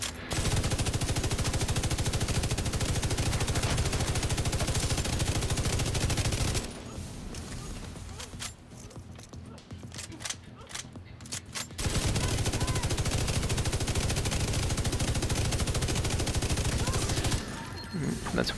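Sustained automatic gunfire from the video game Tom Clancy's The Division 2, loud and dense for several seconds, breaking off into a quieter stretch before the rapid shooting resumes near the end.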